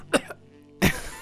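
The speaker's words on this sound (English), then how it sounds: "pretend I'm coughing" A deliberately fake cough from a person trying to hide a laugh: two quick forced coughs close together, then a louder, harsher cough after a short pause, all close to the mic with no talking.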